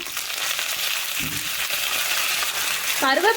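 Curry leaves dropped into hot oil with fried lentils for idli upma, a continuous close frying hiss with a brief crackling burst, and a voice starting to speak at the end.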